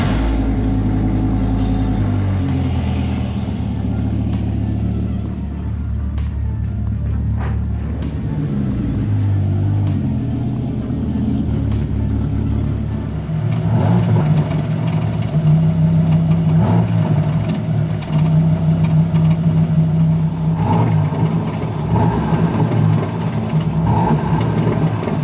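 A Dodge Viper GTS engine runs steadily as the car is driven into a garage, a deep low rumble that grows louder and rougher partway through, heard alone without talk.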